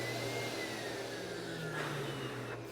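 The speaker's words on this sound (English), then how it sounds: "You can blow away your pet's hair in your house, in your backyard, in your lawn, whatever you want to blow away dirt or hair." REDMINUT dog hair dryer blowing air, a loud, steady, close whooshing motor drone with a slight shift in pitch partway through, tapering a little at the end, with no one talking.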